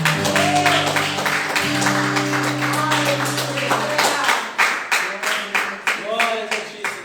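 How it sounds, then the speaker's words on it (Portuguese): A church congregation at a Sunday family service claps in a quick rhythm that grows toward the end, over sustained music, with voices speaking and singing. "Aplauda mais uma vez o Senhor."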